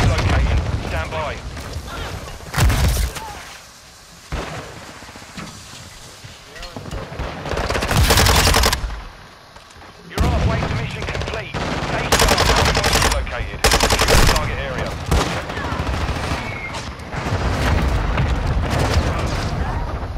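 Rapid machine-gun bursts and heavy gunfire in the video game Modern Warfare 2, loud and in repeated clusters with booming blasts, while a player talks over the action.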